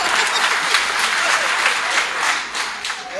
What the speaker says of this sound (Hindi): बजा दीजिएगा ताली एक बार।